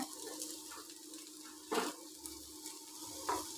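Colocasia stir-fry with sambar powder and salt is stirred in a pan over a medium flame, with a soft ongoing sizzle broken by a few sharp scraping strokes.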